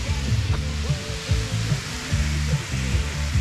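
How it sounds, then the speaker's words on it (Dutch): Meat fries in a pan at a carp-fishing spot in a polder, a steady close sizzle and crackle with occasional stirring or scraping, and no talking. "Ik ga ondertussen even lekker de vleesje bakken"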